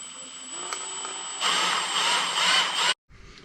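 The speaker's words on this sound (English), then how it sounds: "and then proceed to drill." A power drill driving a 1/4 inch bit through a camera rig handle: a steady high motor whine that jumps into a loud, harsh grinding burst for about a second and a half, then cuts off abruptly.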